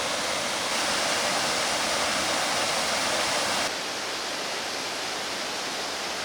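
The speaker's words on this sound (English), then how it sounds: "waterfalls." Waterfalls cascade down a small side valley in the Kassel Wilhelmshöhe mountain park, a steady, loud broadband rush of falling water that shifts to a slightly softer roar partway through, with no voices.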